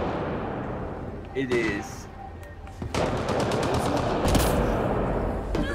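Widow sniper rifle shots in Mass Effect Andromeda multiplayer: a few sharp, loud blasts ring out separately, with a person talking over them.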